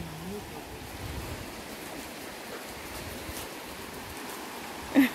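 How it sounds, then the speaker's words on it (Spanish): Rio Grande river water at the bank, a steady broad wash of flowing water with some wind rumble, continuous and fairly faint, with a brief louder knock near the end. "Estamos en la orilla del río Bravo."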